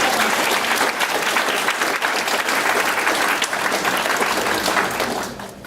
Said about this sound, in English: Let's give Cliff a big round of applause